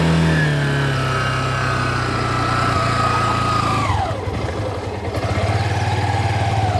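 A vehicle engine idles steadily during a driving lesson in Jaffna, then dips and shifts into a lower, throbbing note as the clutch is let out, continuing close and loud.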